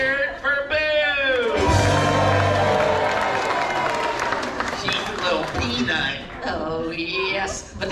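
A theme park comedy show crowd at the Monsters Inc. Laugh Floor in Magic Kingdom's Tomorrowland cheers and claps for Boo, with a burst of applause and shouts rising under an amplified announcer's voice, then fading as he keeps talking.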